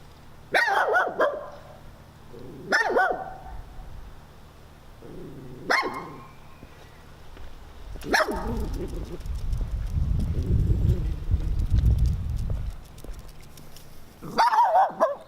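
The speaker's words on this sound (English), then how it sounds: "Please note, I'm not taunting this dog." A loose dog barks outdoors on a hillside, sharp separate barks in short bursts spaced a few seconds apart with a rumbling patch between them, close and loud, no talk over it.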